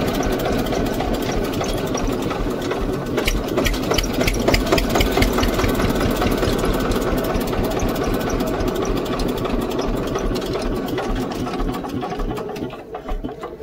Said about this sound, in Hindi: ट्रैक्टर को थर्ड गियर में लगा लेते हैं